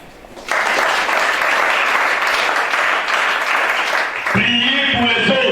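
A church congregation bursts into loud, sustained applause at a sermon. The clapping runs for several seconds and then gives way to music with voices.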